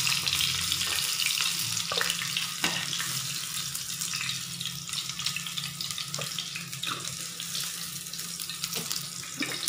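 Chicken 65 pieces frying in hot oil, a dense, steady crackling sizzle running throughout with occasional sharper pops and clinks, moderately loud and with no voices.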